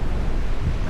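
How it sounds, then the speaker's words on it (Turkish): Strong wind blows steadily outdoors on a forest walk toward a hilltop castle and palace in Sintra, a loud, continuous rushing roar buffeting the microphone with no voices. "Bugün de aşırı rüzgar var."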